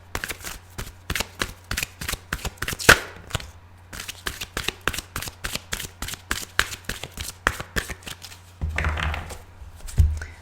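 Tarot cards being shuffled and dealt, a long series of crisp rhythmic riffling flicks and soft slaps at close range, with a few pauses and a longer rustling burst near the end.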